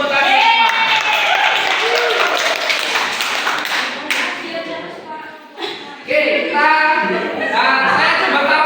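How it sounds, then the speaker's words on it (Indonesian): Classroom applause during a microteaching lesson, a dense burst of hand clapping filling most of the clip, briefly dipping near the end before swelling again, with children's voices mixed in. "Oke, beri tepuk tangan."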